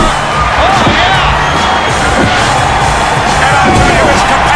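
A packed crowd in a WWE wrestling video game cheers and roars continuously at high volume, with dull thuds and slams from the ring mixed into the steady noise.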